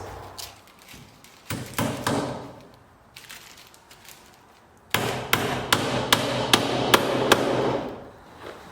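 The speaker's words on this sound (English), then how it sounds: "I've got a little bit more stapling to do" Staple gun or hammer driving staples over electrical wire inside a post frame barn: sharp repeated strikes, a few scattered at first, then a quick run of loud close hits.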